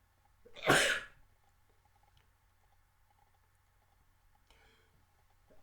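A single sharp human sneeze after taking raspberry menthol dry snuff, loud and close, followed by a quiet room with a faint click a few seconds later.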